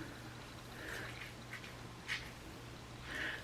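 Mousse is scrunched into wet curly hair, producing soft, close, faint squishing and crackly wet sounds in a few small bursts against a quiet background.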